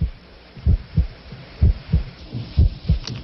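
A steady heartbeat thumps loud and close in a regular lub-dub rhythm, about ten beats in quick succession, with no voices.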